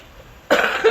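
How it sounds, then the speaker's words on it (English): One sharp cough bursts out after a moment of near silence, close and fairly loud, followed by a brief second rough push of breath. "sorry y'all had to hear me cough"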